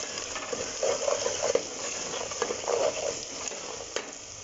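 Spices stirred in a hot pan: red chilli, coriander powder and turmeric frying in oil, with a steady close sizzle and scattered scraping scrapes of a spoon across the pan, no voices.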